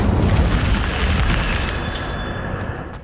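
A fiery Incendio spell blast from Hogwarts Legacy, a loud booming burst that fills the clip and then tails off into a rumbling, crackling decay.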